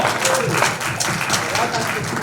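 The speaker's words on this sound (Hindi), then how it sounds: "जोरदार तालियां" An audience applauds at a Bollywood film's music launch event, dense loud clapping filling the whole moment, with a host's voice talking over it.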